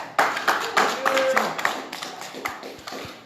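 A small audience at a seminar-style gathering gives a brief round of applause, with a few sharp individual claps standing out over a thin, uneven patter that tapers off.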